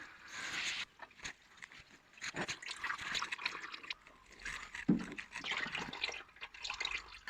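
Engine oil dripping and trickling from the sump drain of a Vauxhall Nova SR with a C20LET Redtop turbo engine during a service, irregular wet drips and splashes close by, fairly quiet.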